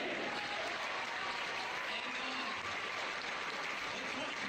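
Crowd applause at a Games Done Quick speedrun event, a continuous even wash of many hands clapping at a distance, faint and steady throughout.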